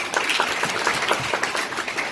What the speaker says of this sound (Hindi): जोर से ताली बजाओ ये इसके लिए